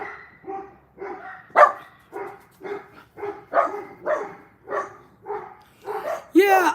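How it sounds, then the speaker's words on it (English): Dogs bark close by in a steady run of about a dozen sharp, evenly spaced woofs, ending with a higher, yelping bark. "Dogs are going to go crazy."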